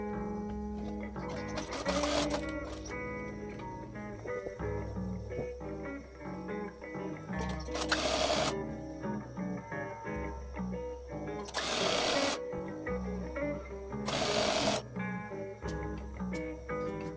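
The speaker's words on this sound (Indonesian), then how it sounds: "Kita jahit dari atas ke sini lalu ke bawah." A sewing machine stitching a simple outer garment, running in steady mechanical bursts with rhythmic whirring and clatter, close and continuous, alongside background music.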